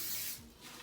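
Cooking spray hisses from an aerosol can onto a pan, a short close burst of spray that fades out after about half a second.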